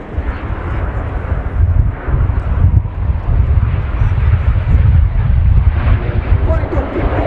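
Frecce Tricolori jets flying a display at an air show, a loud, close, continuous roaring jet rumble with heavy wind buffeting throughout, and speech mixed in.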